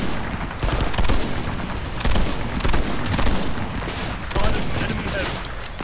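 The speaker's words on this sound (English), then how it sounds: "I'm going to switch over to 2x fire and see if I can get some shots in on them" Gunfire in the video game Planetside 2, a dense, continuous burst of rapid shots with louder surges in a busy battle mix, loud and close throughout.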